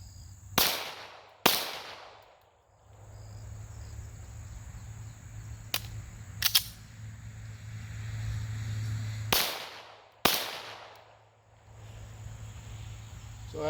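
Competition ammunition is test-fired in sharp, loud gunshots: two quick shots, a fainter pair of cracks in the middle, then two more shots, all over a steady low background hum.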